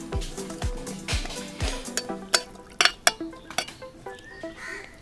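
Jackfruit thoran with turmeric and salt stirred in a pan, a spoon scraping and clinking against the metal in an uneven rhythm, close and clear, ending in a few sharper taps, with no talking.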